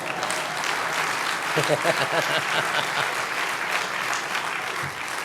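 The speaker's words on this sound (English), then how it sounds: "Give him a round of applause." Loud audience applause at the 2018 JFK Profile in Courage Award ceremony, a sustained wash of clapping from a large crowd, with a few voices briefly audible beneath it.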